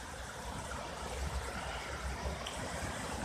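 Fresh, clear spring water gushing along a small stream, a steady broadband rush with soft trickling, moderately quiet and continuous, with no voices.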